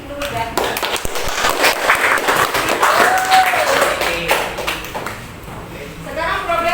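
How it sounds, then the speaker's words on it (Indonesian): Audience clapping in a classroom during group presentations, a dense burst of applause lasting several seconds at steady loudness with a teacher's voice and chatter mixed in. "beri aplaus buat Ibnu dan"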